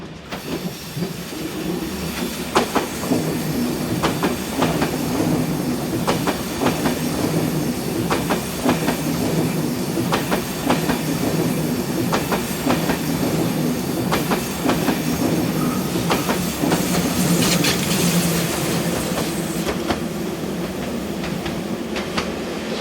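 Austrian Railjet train RJ550, the 05:27 Graz to Vienna service hauled by locomotive 1116 156 on the Semmering Pass route, rolls past slowly with steady rumble, rhythmic wheel clatter over rail joints and a faint squeal.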